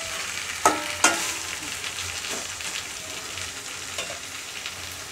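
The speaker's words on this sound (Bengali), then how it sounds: "তাই একটু ধৈর্য সহকারে সময় দিয়ে খাসির মাংসটিকে কষিয়ে" Goat mutton being stir-fried in a pan for curry, a steady close sizzle with a few sharp spatula clinks and scrapes near the start, then softer continuous frying.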